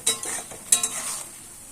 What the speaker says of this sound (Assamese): মছলাখিনি মই ভালকে ফ্ৰাই কৰি লম।